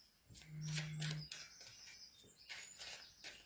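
Small birds chirping outdoors in short, sharp tweets scattered across a few seconds, faint and somewhat distant, with a brief low hum underneath.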